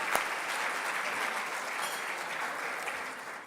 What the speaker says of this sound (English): let's give these wonderful women another round of applause